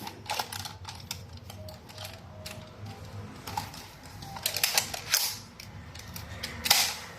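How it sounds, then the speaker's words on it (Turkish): Sharp plastic clicks and clacks from a toy gun as its stiff magazine is worked loose and pulled out, several louder snaps near the end, close and alone over a faint background hum. "Bakın gördüğünüz gibi şarjörü nasıl çıkartıyoruz."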